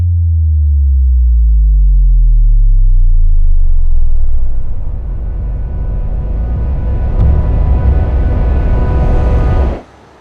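Low sustained synthesized tones glide downward, then give way to a rising, buzzy drone that swells steadily before stopping abruptly, loud and alone with no voices.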